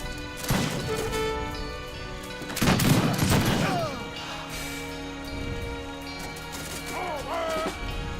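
Rapid gunfire volleys rattle in an Age of Empires 3 battle as troops shoot at a stable, with crashing impacts and overlapping bursts of game battle noise.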